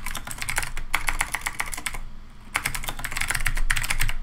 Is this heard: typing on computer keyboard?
yes